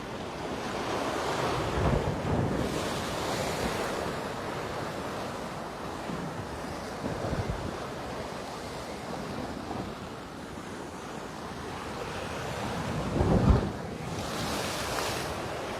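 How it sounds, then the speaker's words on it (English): Ocean waves wash and crash onto the shore near Waikiki Beach in Hawaii, a steady broad roar with several louder surges, mixed with gusty wind buffeting the microphone. "I gotta imagine you're hearing the waves really nicely crashing"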